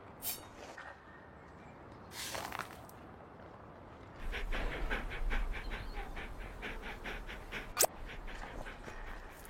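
A dog pants and whimpers softly in short breathy bursts over a low rumbling background, with a sharp brief click near the end.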